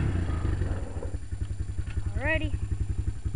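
Honda Recon 250 quad idling close by with a steady low chugging pulse, briefly blipped on the throttle; a voice speaks over the first second.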